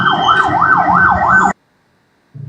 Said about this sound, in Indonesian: ambulan sudah datang